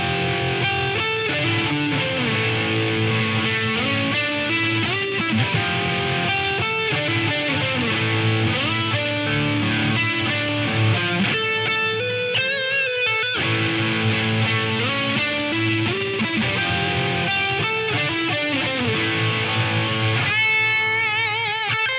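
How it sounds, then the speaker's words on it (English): Electric guitar lead lines played through the special effects algorithm of a Digitech DSP128 rack unit, giving a diffuse multi-tap echo, loud and continuous with a short gap near the middle and no talking. "it's got a kind of diffuse multi-tap thing happening there. That's the special effects algorithm."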